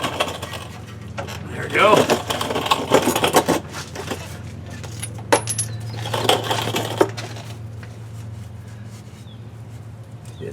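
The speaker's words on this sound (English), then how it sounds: "So let me pull the axle back in." Rear axle shaft on a 2008 Chevy Suburban being slid back into the housing, giving metallic clinks, scrapes and a sharp clunk up close, with someone talking over parts of it.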